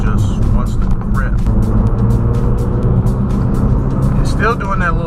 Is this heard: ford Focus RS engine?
yes